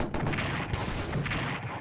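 Defensive artillery fire from the WWI strategy game Strategic Command WWI, heard as a loud, dense, rumbling barrage of overlapping blasts that fills the short burst.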